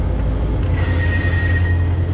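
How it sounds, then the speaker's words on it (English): A train rolls along railroad tracks close by and makes a loud, steady low rumble, with a thin wheel squeal rising partway through. The sound is heard from a pedestrian bridge on a riverside trail. "Got a train coming up the railroad tracks there."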